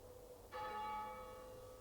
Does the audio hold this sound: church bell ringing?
yes